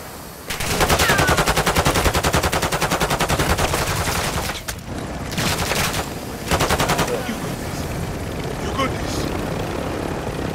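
Gunfire in Call of Duty: Modern Warfare II DMZ, long loud automatic bursts with rapid regular rattling, a pause, then shorter bursts, with a speaking voice woven in.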